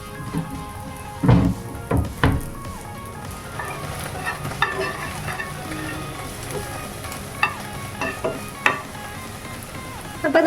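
Onions sauté in a pan with a constant close sizzle, broken by a few sharp clacks and scrapes as they are stirred.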